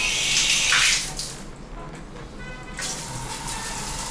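Shower water runs steadily in a Singapore hostel bathroom, a loud broadband hiss and spray that is strongest at first, then settles into a softer, even rush for the rest of the moment, with no talking.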